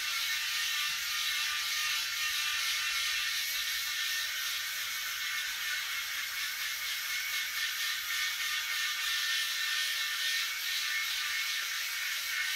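Electric head shaver, Remington Balder Pro or Kibiy, running steadily while shaving a scalp with light pressure, giving a continuous close buzzing whir with a faint rhythmic rasp throughout, no talking.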